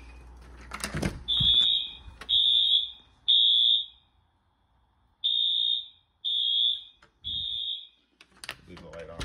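A Wheelock MT fire alarm horn blaring in loud, piercing, evenly timed blasts, three then a pause then three more, with a few clicks and brief voices around them.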